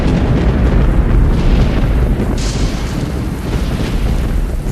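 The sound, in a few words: thunderstorm and cannon fire sound effects, Battle of Shiloh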